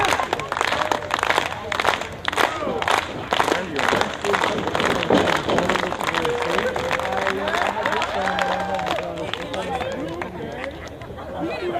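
A crowd at a wrestling show claps in steady, rhythmic unison, with scattered cheering and loud chatter over the top and voices shouting throughout.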